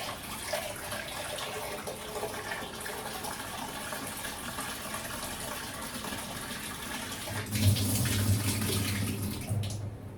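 Tap water runs steadily into a cooking pot being filled for mutton handi, a continuous splashing rush that swells louder and deeper near the end.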